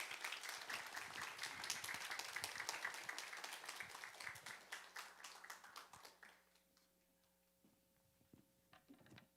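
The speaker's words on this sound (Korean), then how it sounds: "우리 박수로 모시겠습니다." A church congregation applauds to welcome a missionary, a dense clatter of many hands that slowly thins and fades to a few scattered claps and then near silence.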